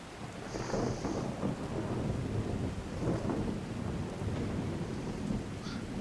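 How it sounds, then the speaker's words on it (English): Heavy thunderstorm in the video game Skyrim: rolling thunder swells and fades over a constant wash of rain, loud and close, with no talking. "Very loud thunder."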